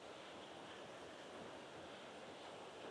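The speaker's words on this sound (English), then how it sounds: "Obviously you can hear the waterfall behind me." Summerhill Force waterfall pours in a steady, unbroken rush of falling water, heard faintly as a continuous broadband roar with no voices over it.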